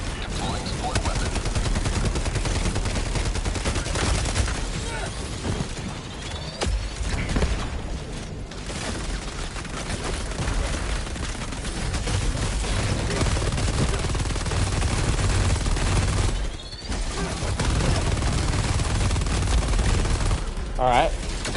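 Sustained automatic turret fire roars in Helldivers 2, a dense, continuous stream of loud gunshots and booming impacts with only brief dips, filling the whole stretch.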